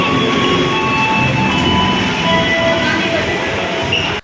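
Steady rumbling train ride noise with rattling carriage and faint high squeals, continuous and fairly loud throughout.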